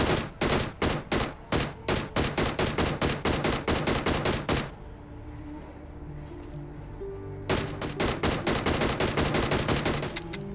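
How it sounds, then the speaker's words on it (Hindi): Rapid bursts of video game gunfire, likely from a DP light machine gun in a mobile battle royale match, rattle off in dense volleys, pause briefly for a quieter stretch, then resume loud and close. "तो वैसे ही मेरे को तुरंत पीछे मेरे को फायरिंग का साउंड आती है।"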